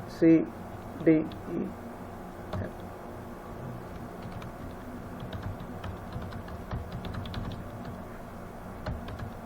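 Letters typed on a computer keyboard, with a few loud key presses at the start followed by quieter, fast clicking keystrokes, while someone talks.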